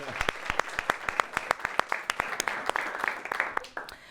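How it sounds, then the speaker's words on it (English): An audience in Chicago breaks into applause, steady crisp handclaps close up with some voices mixed in. "Give yourselves a round of applause"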